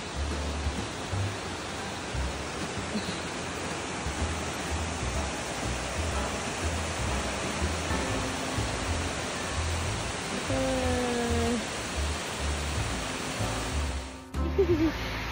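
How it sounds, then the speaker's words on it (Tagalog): Steady broadband roar of Bridal Veil Falls, a waterfall near Harrison Hot Springs, filling the whole clip at a constant close level, with a few brief voices and faint tonal bits over it near the end. "There's a waterfalls"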